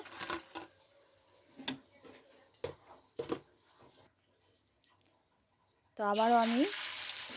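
Cabbage pakoras drop into hot oil and break into a loud, steady sizzle during the last second and a half, after a stretch of quiet talking with soft kitchen clicks.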